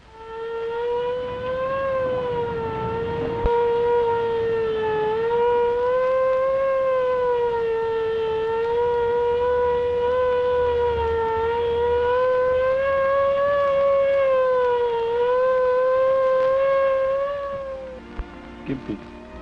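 In 1939 New York, a siren wails loud and steady for nearly twenty seconds, its pitch swelling and dipping slightly, with faint voices underneath.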